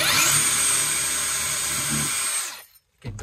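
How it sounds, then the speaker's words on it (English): A power drill bores a pilot hole into a cabinet, a loud high-pitched whirring burst lasting about two and a half seconds before cutting off, followed by a brief faint knock. "I'll just drill a pilot hole here."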